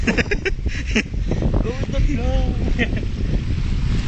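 Strong wind rushes past the microphone by the sea in Tacloban, Leyte, a continuous loud roar with a voice speaking over it.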